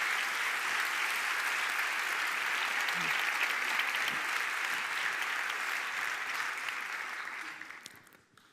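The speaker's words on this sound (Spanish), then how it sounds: "Un gran aplauso para ella." Sustained audience applause at a science outreach talk in Valladolid, a dense steady wash of clapping that holds evenly for several seconds before fading out near the end.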